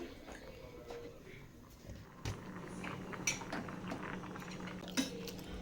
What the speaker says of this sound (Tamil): இப்போ இந்த மாதிரி கிண்டி விட்டுக்கோங்க